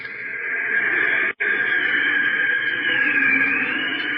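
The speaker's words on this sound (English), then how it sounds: "That's the artificial wind your car creates when you're driving around 30 miles an hour." Steady rushing wind noise like air streaming past a car moving at around 30 miles an hour, a continuous broadband hiss with a brief dropout near the middle, heard alone with no talk.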